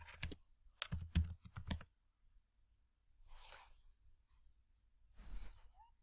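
Someone types on a computer keyboard in quick bursts of key clicks, with a short flurry early on and then sparser presses separated by quiet pauses, plus a faint breath.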